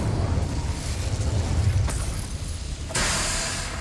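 Incendio fire spell cast in Hogwarts Legacy, a rumbling whooshing burst followed by a crackling flare and a sharp second burst near the end, loud and close.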